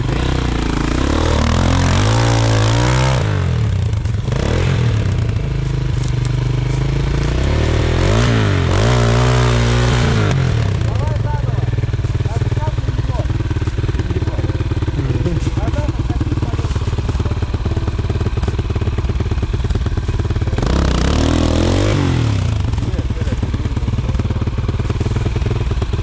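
An enduro motorcycle, a Chinese-made bike, revs hard near streams. The engine roars repeatedly at close range, surging and falling over a continuous rumble, while people shout and talk over it.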